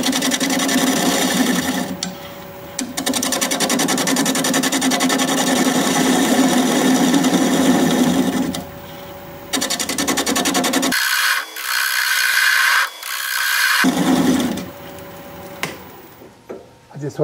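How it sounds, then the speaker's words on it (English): A wood lathe spins a bowl at 640 RPM while a 5/8 inch bowl gouge cuts, producing loud, continuous rasping and scraping that breaks off briefly several times as the tool lifts from the wood, then resumes. "We're gonna be turning at 640 RPM, 5/8 inch bowl gouge, mask and face shield on."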